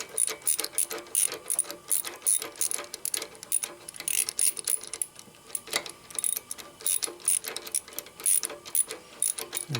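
A hand ratchet tightens bolts on a 1972 Harley-Davidson XLCH Sportster ironhead, with steady rapid clicking in quick bursts, close and fairly quiet, with no talking.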